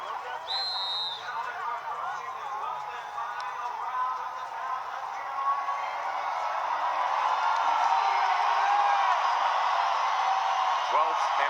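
A boxing arena crowd cheers and roars for hometown world champion Jose Ramirez before a final round, a broad sustained hum of voices that swells toward the end under steady commentary.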